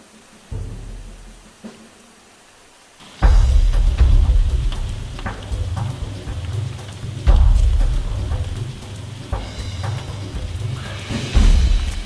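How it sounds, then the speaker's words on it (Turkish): A sudden rain shower outdoors in nature starts abruptly, shifting from near quiet to a loud, steady wash of rain on surfaces with heavier gusts and possible distant thunder rumbling underneath. "hava aniden değişti ve 10 dakika içerisinde yağmur yağmaya başladı"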